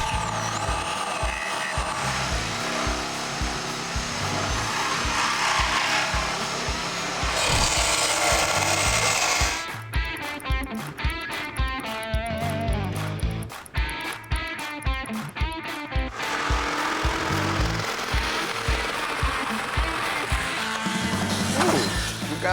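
Body panels of a VW Beetle are cut and trimmed to fit over a Can-Am Maverick X3, with steady loud power-tool cutting and grinding, a stretch of rapid rhythmic sawing strokes midway, then more continuous cutting.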